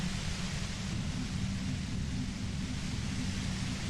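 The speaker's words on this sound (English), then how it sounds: "You hear through the white noise. It's especially bad suddenly." Steady, dense radio static hisses without a break in the Disco Elysium video game, a loud, even wash of noise with a low rumble beneath and no voices.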